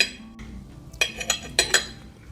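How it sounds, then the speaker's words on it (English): A knife cutting cooked steak on a plate, with a few sharp clinks and scrapes of metal on the plate, close and with no talk. "Let me cut the steak."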